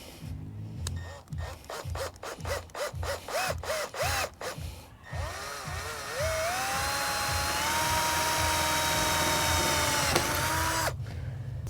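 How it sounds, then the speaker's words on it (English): A power drill bores a hole through a giant Christmas lollipop decoration, with several short rising bursts of whine at first, then one long sustained drilling run before it stops. "drill out the hole"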